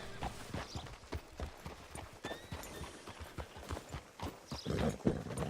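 Horse hooves clip-clopping at a steady walking rhythm in the video game Red Dead Redemption 2, fairly close, with a faint whinny-like tone in the middle and some background ambience.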